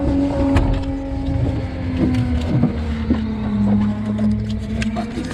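A car engine drones loudly and continuously at a steady pitch during a burnout at a burnout bash, with faint wind noise and crowd sounds underneath.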